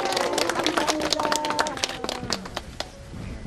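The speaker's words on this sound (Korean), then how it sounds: "감사의 큰 박수 한번 부탁드리겠습니다" Audience at a Lunar New Year rice and rice-cake donation event outside a memorial hall claps in a dense burst that thins out toward the end, with some voices and tonal sounds mixed in.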